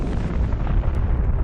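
A supernova explosion sound effect, a dense sustained rumbling boom that stays loud and heavy in the low end throughout with no voices.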